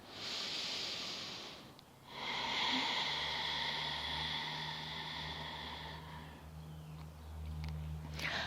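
Slow, steady breathing during a lower-body yoga flexibility stretch, a long breathy exhale filling most of the stretch after a brief pause, close and fairly quiet, with no talking.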